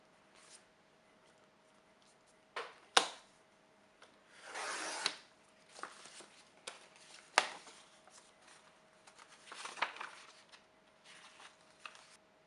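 Kraft paper envelope being cut for a gusseted pouch craft, producing scattered dry scraping and crisp rustling bursts, some sharp snips and a longer rasping cut, close and fairly quiet with pauses between.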